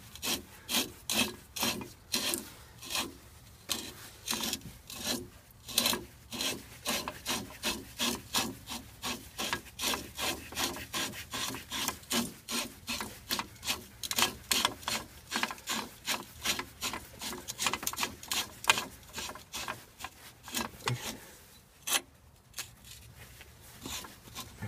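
A threaded coilover adjustment collar on a car's suspension is spun by hand, giving a rapid, regular series of close scraping, rasping clicks that run on for about twenty seconds with only short pauses.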